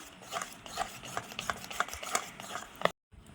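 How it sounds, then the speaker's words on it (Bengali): Ripe jackfruit fritter batter is whisked by hand in quick, rhythmic wet strokes, fairly close, and stops abruptly just before the end; no talking. "এইভাবে আপনারা ফেটিয়ে নেবেন"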